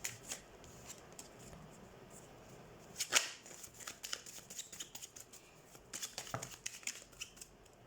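Tarot cards being shuffled by hand make soft, repeated riffling and flicking bursts, close and fairly quiet, with a sharper flurry about midway and more toward the end.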